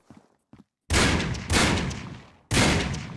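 Automatic gunfire in the shooter Critical Ops, aimed at a light: loud, close bursts of rapid fire, two back-to-back then a pause and a third, after a couple of faint clicks.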